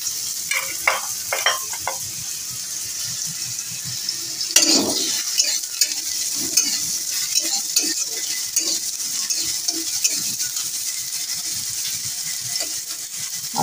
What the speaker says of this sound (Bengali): এবার আমি সবজিগুলিকে আমার ভেজে তুলে নেবো।